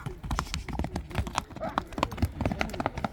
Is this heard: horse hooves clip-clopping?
yes